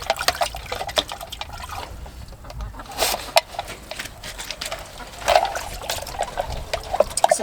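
Water trickles and pours steadily into a chicken coop's water trough during coop cleaning, a continuous liquid wash with a few brief louder splashes, close by and with no talking.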